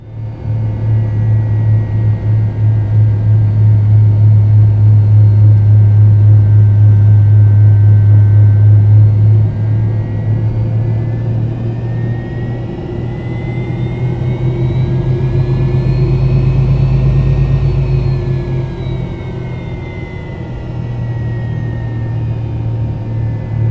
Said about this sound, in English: The engine's resonance at idle, paired with them being mounted on the fuselage, creates a very loud drone.